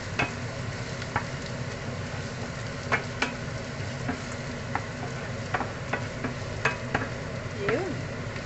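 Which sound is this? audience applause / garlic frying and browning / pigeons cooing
garlic frying and browning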